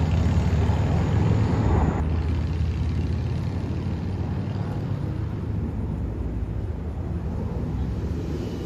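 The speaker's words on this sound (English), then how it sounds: "Marine One is coming in over the tidal basin." Marine One, the presidential helicopter, flies in over the Tidal Basin in Washington, a steady rumbling rotor and engine drone at moderate distance, slightly louder at first, with no talking.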